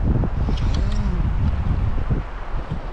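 Wind gusting outdoors during fly fishing, loud rumbling buffeting against the microphone for a few seconds with faint rustling mixed in and no speech.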